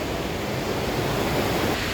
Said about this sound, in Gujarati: તો ભાઈ એકદમ નજીકથી ગીરા ધોધ કંઈક આવો દેખાય છે